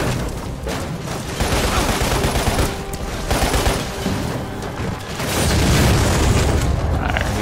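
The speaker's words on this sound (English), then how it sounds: "we're shooting that grenade launcher" A grenade launcher fires in the Lost Planet video game, heard as loud, continuous booming blasts and rattling gunfire with mechanical clatter, swelling louder toward the end.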